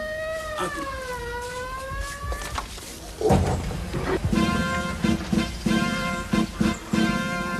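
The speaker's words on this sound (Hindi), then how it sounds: "सायरन।" A wailing police siren rises and falls with strong harmonic tones, followed by clattering and knocking sounds while the siren continues underneath.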